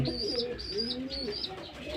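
Pigeons coo while feeding, with a soft repeated rolling coo and faint chirps over a low steady background, close and moderately loud.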